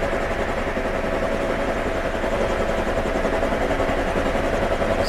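Simulated helicopter rotor and engine noise from a Prepar3D flight simulator flight, a steady loud continuous thrum and whine with no pauses throughout.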